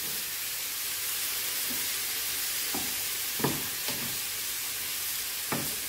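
Chicken cut into small cubes fries in a pan with seven spices, giving a steady close sizzle throughout, broken by a few sharp scrapes and clacks of stirring.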